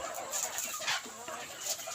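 Penned chickens clucking softly while being fed rice, intermittent short clucks at a distance over a faint continuous background.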